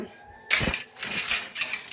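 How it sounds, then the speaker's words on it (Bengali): Metal pots and pans are sorted and stacked in a home kitchen during Eid cooking preparations, with a loud clank followed by several lighter clatters and jangles close by. "এখানে যে হাঁড়ি পাতিলগুলি গুছাচ্ছি"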